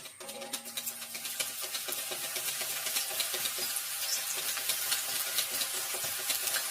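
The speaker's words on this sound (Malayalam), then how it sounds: "നമുക്ക് എണ്ണ നന്നായിട്ട് ചൂടായി കിടക്കുവാണ്, അതിലേക്ക് അരിഞ്ഞിടാം." Raw banana slices dropping into hot oil to fry as chips, a steady broadband sizzle that builds over the first second and then holds, with faint clinks and scrapes from the slicer near the pan.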